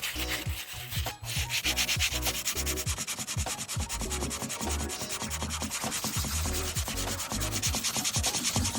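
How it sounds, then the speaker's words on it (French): Coarse 40-grit sandpaper scrubbed hard over a small wooden fingerboard skatepark bowl, a loud continuous rasping with rapid rhythmic back-and-forth strokes, close and without speech. "la prochaine étape, c'est le ponçage. Prenez du gros grain, 40"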